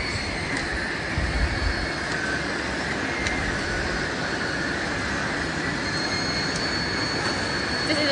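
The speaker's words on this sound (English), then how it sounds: "This is a transfer machine. He will help the hose go out smoothly" A transfer machine on a PVC hose production line runs with a loud, constant mechanical roar and hum, steady throughout with faint clicks, in a busy trade fair hall.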